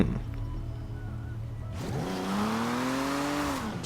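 A Jaguar in Forza Horizon 4 pulling away, its engine note climbing steadily and loud and close, with a faint tire squeal as it accelerates.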